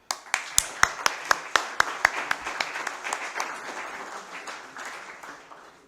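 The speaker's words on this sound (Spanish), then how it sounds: "un aplauso para lo que vamos a escuchar" An audience at an international poetry festival in Santo Domingo claps, starting with a few sharp, evenly spaced near claps that swell into a softer general applause before fading.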